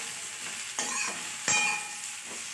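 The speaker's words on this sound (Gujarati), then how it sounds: "તેલ નાખ્યા વગરના થોડોક શેકી લેશું એટલે આપણે ભીંડો ચીકણો ના થાય" Okra dry-roasting in a pan without oil, a soft steady sizzle punctuated by a few scraping stirs of a spoon against the pan, close and alone.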